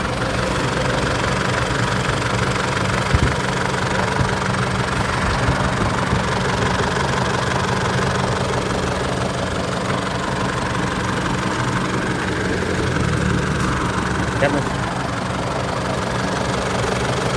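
A freshly overhauled Isuzu D-Max diesel engine idles steadily just after a cold start, a continuous mid-low engine drone with an even, unbroken rhythm heard up close and alone.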